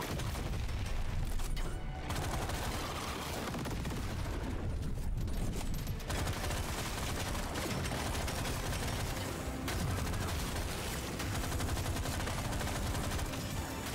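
The butt gun in Deep Rock Galactic: Survivor fires a continuous, dense stream of rapid shots, layered with other in-game bangs and mechanical noise, with no let-up across the whole stretch.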